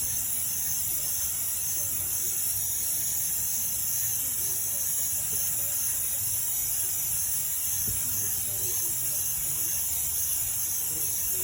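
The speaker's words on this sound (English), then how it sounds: "So it instructed us to spray down here like this, because this actually is supposed to go inside the sprocket" Chain lube sprays onto a motorcycle chain and sprocket in a continuous, close, steady hiss that runs unbroken throughout.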